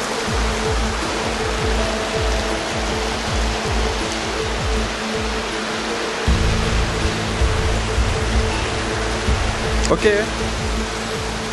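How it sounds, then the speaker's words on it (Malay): Heavy rain pours at a campsite in Negeri Sembilan, a dense, constant hiss throughout with a louder patter of drops on a nearby surface; a voice speaks briefly. "Okay guys, hujan lebat."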